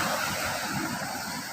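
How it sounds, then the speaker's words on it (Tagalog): Big ocean waves roll and crash in the open sea near rock formations, a loud continuous broadband surf roar with wind noise running steadily throughout. "Ang lalaki ng alon mga ka-BJ."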